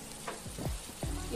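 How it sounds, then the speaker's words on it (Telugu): Tempering spices fry in hot oil for a red chilli pickle, a soft steady sizzle with a few brief low pops and bubbles, heard close and without talking. "పోపు బాగా వేగింది"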